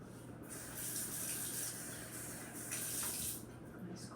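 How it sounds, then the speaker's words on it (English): Cold tap water running into pie crust dough, a bright splashing stream that swells and eases in two bursts, close and fairly quiet, with no voices. "I think I actually want to add just a bit more water to this."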